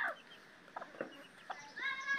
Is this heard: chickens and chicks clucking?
yes